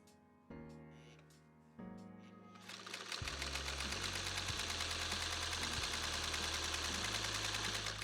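A home sewing machine stitches fabric, starting with a couple of short, hesitant runs and then settling into a steady, fast mechanical whir. It is close and moderately loud, and no one speaks.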